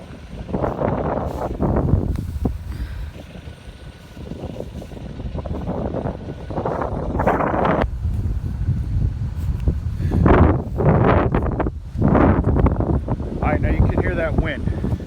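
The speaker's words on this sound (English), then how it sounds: "That wind." Wind gusts buffet the microphone over a freshly cut hay field in waves of rushing noise, loud and close, while someone talks intermittently.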